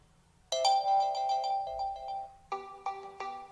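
A notification tone on a Realme C3 phone sounds after a short quiet start: a bright melodic chime followed by a second rising cluster of tones, clear and close, with no talking.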